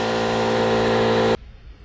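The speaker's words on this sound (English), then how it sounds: "For this, we use a metal porting bit on an air-powered die grinder." An air-powered die grinder fitted with a metal porting bit trims a headlight bucket on a 1967-69 Camaro, a steady loud whine that holds constant for over a second and then cuts off abruptly into near silence.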